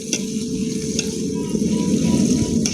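A handful each of mint and coriander sautéing for chicken biryani in the style of Jabbar bhai, with a steady close sizzle and stirring that runs unbroken throughout.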